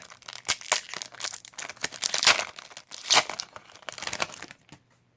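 Detective Pikachu Pokémon card booster packs torn open by hand, a run of sharp crinkling rips and foil crumples in uneven bursts, close and fairly loud, ending in quiet.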